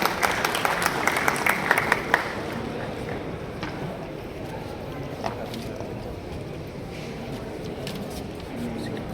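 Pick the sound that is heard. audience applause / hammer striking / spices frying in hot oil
audience applause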